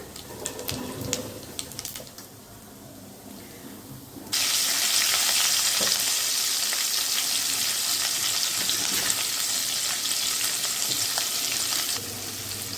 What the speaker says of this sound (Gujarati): તેલ ગરમ થઈ ગયું છે થોડીક આપણે હિંગ ઉમેરી દઈશું ચમચી જેટલું જીરું આખું જે આવે તે ઉમેરવાનું છે